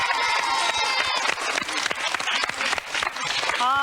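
A French TV game show audience applauds a contestant with steady, loud clapping and some cheering throughout, while a voice talks over it and a musical tone enters at the end.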